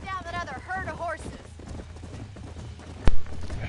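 Herd of horses galloping in the Red Dead Redemption video game, a soft rhythmic clip-clop of hooves under a brief high horse whinny at the start, ending with a sharp loud crack near the end.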